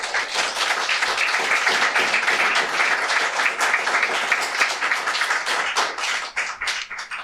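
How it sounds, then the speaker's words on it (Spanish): A church congregation claps during a sermon, a loud, sustained round of applause from many hands that tapers slightly toward the end. "Dale un aplauso a Jesús."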